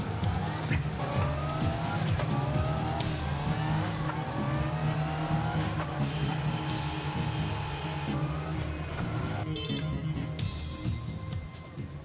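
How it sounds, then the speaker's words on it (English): Honda motorcycle engine running on a final inspection test machine in a factory, a loud continuous whine with revs sweeping up and down and steady mechanical roar throughout, no talk. "This machine is used to carry out the final inspection of the motorcycle."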